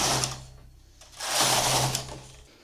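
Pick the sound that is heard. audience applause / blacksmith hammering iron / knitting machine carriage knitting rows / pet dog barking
knitting machine carriage knitting rows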